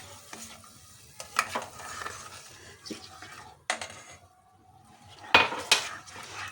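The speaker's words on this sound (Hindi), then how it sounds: "ये अब हमें थोड़ा सा पानी डाल के मसाला भूनना है" Spices and tomatoes for dhaba-style dal fry with a little water in a pan. A spoon scrapes and clatters against the metal in bursts over a quiet sizzle, with a couple of louder knocks near the end.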